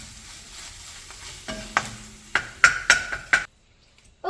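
An egg for egg hakka noodles fries in a hot, oiled pan while a spatula stirs it, giving a soft sizzle under a run of scraping strokes and sharp metal clinks that quicken and then stop abruptly.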